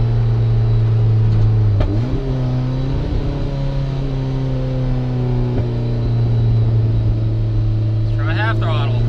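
A 1994 turbocharged Mazda Miata engine with a misfire runs at quarter throttle, holding a loud, steady droning hum with a brief rise in pitch early on, close up and continuous throughout.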